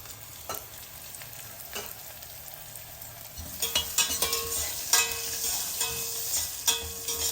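Asafoetida frying in hot oil in a pan for Madras rasam: a quiet sizzle that swells into a brighter, steady crackle partway through, with a few soft stirring scrapes.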